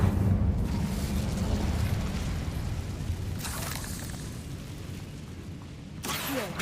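An Incendio fire spell in the Hogwarts Legacy video game erupts with a low, rumbling blast that roars steadily for several seconds, with sharper bursts near the middle and the end.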